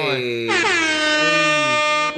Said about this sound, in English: Get the air horns going.